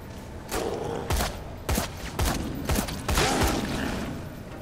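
Gunfire in the video game Dead Rising 3, probably from an assault rifle, comes as a string of about seven heavy booming shots at uneven intervals, loud and close, with no talking over them.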